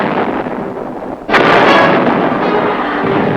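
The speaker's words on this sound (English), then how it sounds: "Assisted by deadly accurate artillery support," A heavy blast of artillery fire from a war documentary booms out suddenly partway through, then rumbles on loudly over a dense, noisy background.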